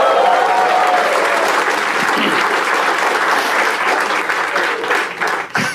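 A stand-up comedy audience bursts into loud, sustained applause that fills the room, then thins and tapers off near the end.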